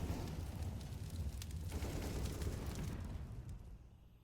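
Flashbang grenades going off in a CS:GO match, heard as a dense, loud roar of blasts and broad noise that fills the clip before easing away near the end.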